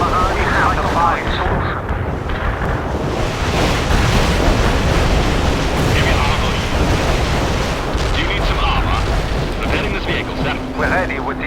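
Artillery barrage in the World in Conflict video game: a continuous loud roar of heavy explosions rumbling together, with radio-style voices speaking over it.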